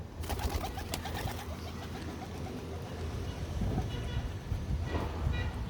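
Pigeons coo softly and repeatedly close by, with wing flutters and rustling and some low background noise.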